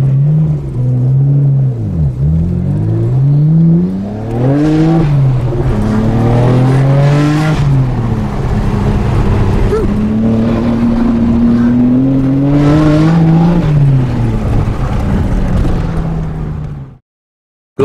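Supercars and tuned cars pulling away from a car show, loud engine rumble and rising revs from several vehicles accelerating close by, one after another, ending abruptly.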